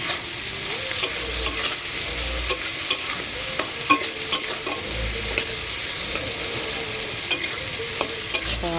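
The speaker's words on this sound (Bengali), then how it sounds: "এই যে মাছ ভেজে এখানে মাছের তেল চচ্চড়িটা বসিয়ে দিয়েছি" Fish oil chorchori with potato, eggplant and onion frying in a pan, a steady close sizzle broken by regular scraping and clinking strokes of a spatula stirring every second or so.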